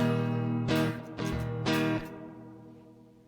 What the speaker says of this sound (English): So you can hear a bit of ripple in that one there.